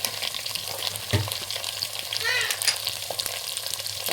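Potatoes, papaya, tomato and a ground spice paste fry in a pressure cooker, giving a steady close sizzle with a sharp burst as ingredients land and occasional scraping stirs, no voices.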